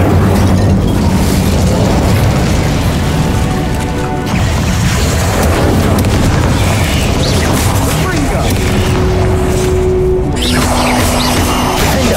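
Fire spell combat in Hogwarts Legacy, a dense, loud wash of booming blasts and crashing impacts over twelve seconds, with tonal magical hums near the end and spoken voices mixed throughout.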